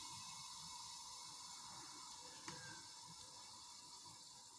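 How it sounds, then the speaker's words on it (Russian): A gas canister being refilled gives a steady, faint broadband hiss that runs unbroken throughout, with one small click midway and no talking. "Слышите, пошла заправка."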